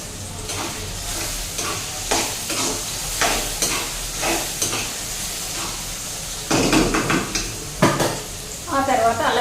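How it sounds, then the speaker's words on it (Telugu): Curry leaves and tomatoes fry in a pan for chicken curry, giving a steady sizzle broken by clanking stir strokes and utensil scrapes against the pan, with brief talk in the background. "టమోటాలు సాఫ్ట్గా అయ్యేంత వరకు ఉడికించుకోవాలి ఒక రెండు మూడు నిమిషాలు పడుతుందండి కరివేపాకు అయితే వేసుకుంటున్నానండి"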